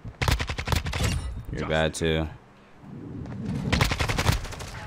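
Gunfire in the video game Call of Duty MW2 with a Kastov-74u, heard as rapid bursts of automatic shots at the start and again near the end, with a player talking in between.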